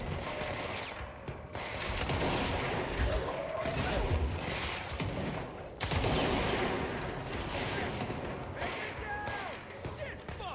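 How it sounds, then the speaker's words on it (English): Rapid gunfire bursts and mechanical clatter from the video game Control come in repeated volleys over roughly ten seconds, fairly loud and dense, with a voice talking over parts of it. "Who are you shooting at?"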